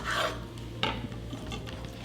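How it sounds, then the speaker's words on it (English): Knife slicing and chopping poached lobster tails into chunks on a cutting board, a rasping cut at the start, then a sharper chop followed by softer scraping strokes against a steady background hum. "Start by cutting each tail down the center and then chop into 1-inch chunks."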